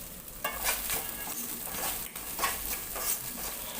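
Jackfruit vegetable sizzles steadily in hot oil tempering while a spoon stirs it in rhythmic scraping strokes, close up.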